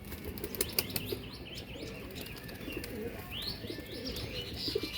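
Domestic pigeons, including Kaldum, Bihari, Lalkath and Rampuri breeds, are let loose, with bursts of wing flapping, chirps and soft cooing from several birds at close to middle distance over a quiet background.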